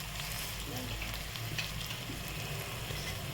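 Turmeric and chili powder fry in hot oil for a ridge gourd dal, making a steady close sizzle with faint stirring scrapes.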